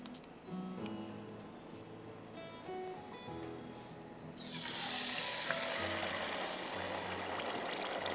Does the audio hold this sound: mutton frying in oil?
yes